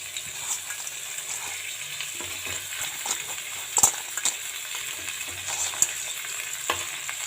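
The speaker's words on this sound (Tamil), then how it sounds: "நம்ம நண்டு போட்டு வதக்கிக்கலாம்." Crab pieces sautéing in a pan with onions and tomatoes, giving a steady low sizzle and frying crackle with occasional stirring clinks, heard close and fairly quiet throughout.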